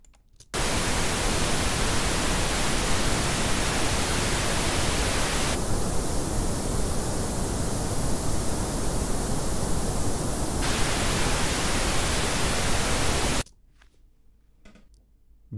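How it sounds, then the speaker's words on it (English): A steady, loud hiss of broadband noise starts abruptly, changes character slightly in the middle, then cuts off to near silence. "whether the beginning of this pink noise file sounds the same as the end"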